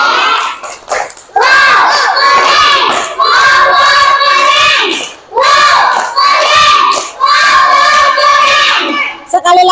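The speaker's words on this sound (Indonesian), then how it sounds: "Bu Guru minta tepuk wow dulu. 1 kali tepuk wow." Schoolchildren in a classroom loudly perform the 'tepuk wow' clapping chant in repeated group bursts, with claps and shouted sing-song voices and brief pauses between rounds.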